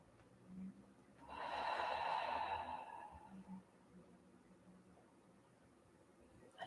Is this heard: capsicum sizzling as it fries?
no